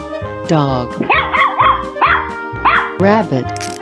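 A cartoon dog in a 3D animal slide video game barks about five times in an uneven rhythm, loud and close, with a bright game chime at the end.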